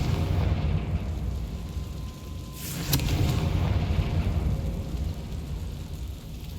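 A Confringo explosion spell in Hogwarts Legacy goes off as a single sharp burst partway through, rising out of a steady low game ambience that continues afterward, with no talking.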